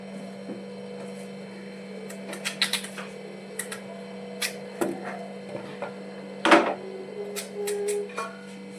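An onion being chopped with a knife, giving scattered sharp taps and clicks at an uneven pace, close by over a steady low electrical hum, with no talking.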